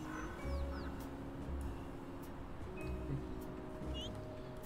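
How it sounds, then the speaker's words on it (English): Several ducks quack intermittently at a moderate distance over a steady outdoor ambient bed, with occasional bird calls mixed in and no talking. "The ducks!"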